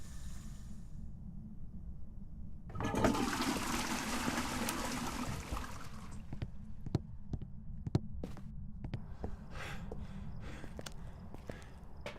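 Running water in Phasmophobia: a faucet turns on and pours in a steady close rush, then settles into a thinner trickle while scattered clicks and taps break through over it.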